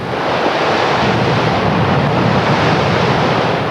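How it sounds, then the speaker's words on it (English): Floodwater gushes through a flooded town along the swollen Ovens River, a loud, dense, unbroken roar of rushing water close to the microphone with no voices. "The water was gushing at many points throughout the town."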